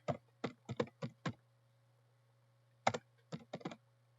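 Keys tapped on a computer keyboard while text goes into a Word document, two quick bursts of about five clicks each separated by a pause, close but soft over a faint steady hum.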